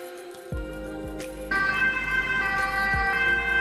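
An ambulance siren wails loud and close, its tone sweeping and shifting as other traffic noise rumbles underneath; no one speaks.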